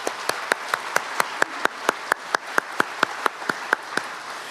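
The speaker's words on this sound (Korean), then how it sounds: "합창단 분들께 다시 한번 큰 박수 부탁드리겠습니다" An audience applauds a choir at a police ceremony, a steady run of evenly spaced claps ringing out clearly over a quiet hall background.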